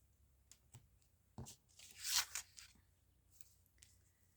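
Backing is peeled off tape stuck to paper flaps, a faint crinkle and sharp tearing rip near the middle, surrounded by small quiet rustles and taps close by.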